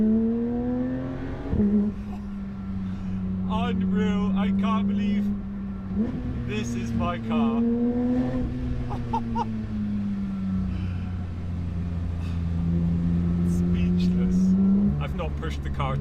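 Loud car exhaust fitted with OPF filters, revving repeatedly in rising and falling sweeps with a steady rumbling idle between, close by, while people talk over it.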